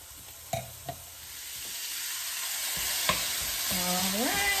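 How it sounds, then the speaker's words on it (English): A pound of seasoned ground beef fries in a pan, a steady soft sizzle rising gradually, with a few sharp clinks of a utensil stirring and scraping near the start and again later, plus a brief tonal squeak at the end. "add your pound of ground beef and season with some salt, and basically just, you know, heat it up and cook it"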